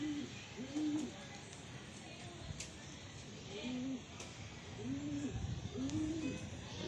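Pigeons arriving at a loft on an overcast, windy day, with repeated soft cooing calls in a steady rhythm over constant wind and outdoor background noise.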